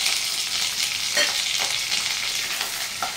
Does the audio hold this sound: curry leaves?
yes